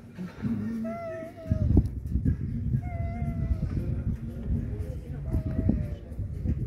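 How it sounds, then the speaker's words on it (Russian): A cat meows a few times at a table at a vineyard hotel, its short tonal calls rising over steady outdoor clatter and nearby voices talking. "И кот опять запрыгнул."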